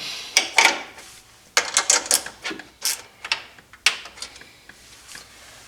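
Sharp metallic clicks and ratcheting taps from a wrench working a bolt on a Polaris Sportsman 570 quad during a hitch install, coming in irregular close bursts with short pauses between them.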